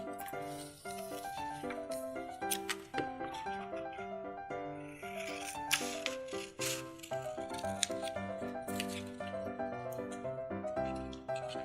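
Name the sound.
cutting paper with scissors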